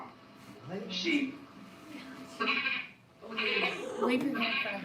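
Someone imitates a sheep, giving several wavering, nasal bleats close to the microphone, rather quiet and spread across a few seconds.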